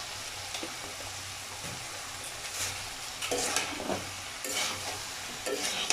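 Banana flower and cooked potato stirred with half a teaspoon of sugar in a pan over the stove: a soft continuous sizzle with repeated scraping strokes of the spoon, quiet and close.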